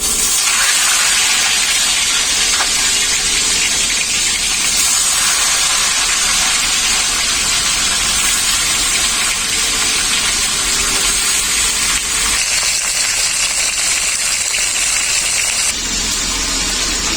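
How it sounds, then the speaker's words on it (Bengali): Fish heads rubbed with salt and turmeric fry in very hot oil, making a loud, steady hissing sizzle that fills the whole stretch with small shifts in intensity and no talking. "তেলটা খুব ভালোভাবে গরম হয়ে গেছে। মাছের মাথাগুলো ভেজে নেব।"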